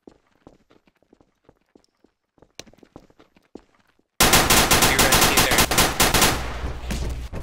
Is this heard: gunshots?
yes